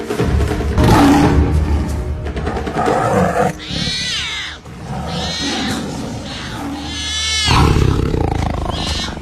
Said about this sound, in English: Nice roar, Ravi.